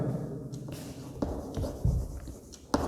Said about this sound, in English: So let's write down.